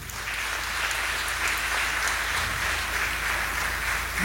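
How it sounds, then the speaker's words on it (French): Steady applause from a church congregation at a Sunday service, dense and continuous clapping filling the room with no voices over it. "on applaudit monsieur Damio"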